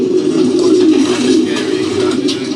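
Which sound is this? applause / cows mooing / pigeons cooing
pigeons cooing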